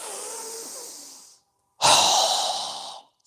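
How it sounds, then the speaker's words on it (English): A long, breathy nasal inhale during a yoga breathing exercise, close and steady, then a short pause and a strong, forceful exhale that trails off, with no talking. "So go ahead and inhale."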